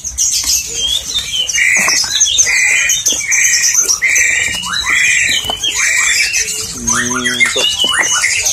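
Caged Bali mynas and Asian pied starlings give loud, repeated squawks, whistles and chattering calls, close and busy throughout, with a short run of rapid descending notes near the end.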